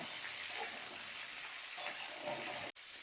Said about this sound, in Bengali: সব সবজিগুলো এবার দিয়ে দিয়েছি তেলের ওপরে এবার আমি এটাকে একটু